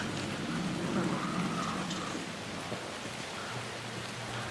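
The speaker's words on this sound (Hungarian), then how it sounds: "Jön az eső." Steady rain pours down in the horror game Alan Wake II, a dense, even hiss of drops on surfaces with a faint low rumble beneath, continuous and close for the whole stretch.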